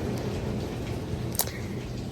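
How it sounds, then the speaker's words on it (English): Heavy rain pouring down outdoors: a steady, dense wash of falling water that holds at an even level throughout, with one brief sharper splash or knock partway through. "It's pouring rain out."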